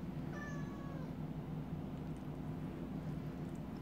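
A cat gives a single short meow near the start over a steady low hum; the rest is quiet background.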